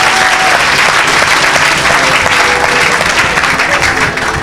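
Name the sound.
congregation applauding in acclaim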